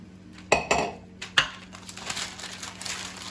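A spoon stirring potato and beef filling in a pan gives a few sharp metallic scrapes and clinks, then softer continuous scraping and rustling, close and without talk.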